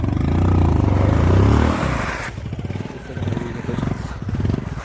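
A motorcycle engine roars loudly, then drops into an uneven, rhythmic sputtering idle nearby, beside the flooded Banas river.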